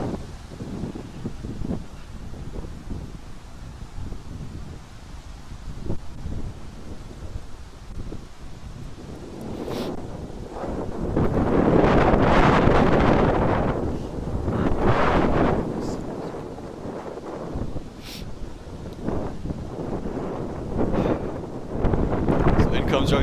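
Wind buffets the microphone at a cricket ground in Morrisville in loud rumbling gusts that swell strongly midway and keep roaring, with commentary voices underneath.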